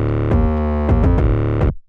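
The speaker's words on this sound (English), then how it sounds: "And it's layered with a kick." Synth layered with a kick drum, sustained tones punctuated by several punchy kick hits at an uneven rhythm, loud and alone before fading out.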